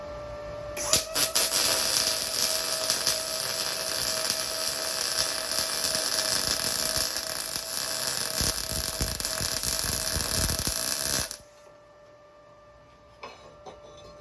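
MIG welding with an Arccaptian Mig 200 welder, a continuous buzzing, crackling arc held for about ten seconds close up, then cutting off into near silence with faint clicks.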